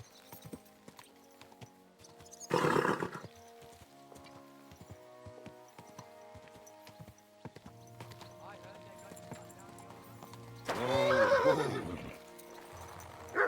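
A horse in Kingdom Come: Deliverance II whinnies twice, loud and close, with clip-clopping hooves and low game music between the neighs and talk over the top.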